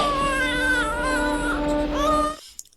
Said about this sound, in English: It's a baby in its mother's arms, but there's something very wrong with that baby.